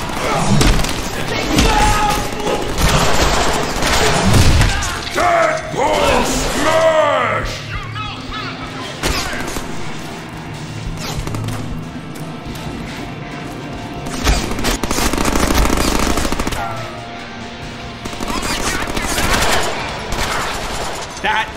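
Heavy gunfire from the Deadpool video game on PC keeps up in loud sustained bursts, mixed with crashes, thuds and booms and game voices over a dense, continuous action soundscape.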